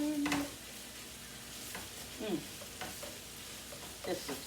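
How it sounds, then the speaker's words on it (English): Peppers sauté in a pan for a breakfast burrito, a quiet continuous sizzle broken by a few scraping stirs and utensil taps. "So I'll let these saute a few minutes."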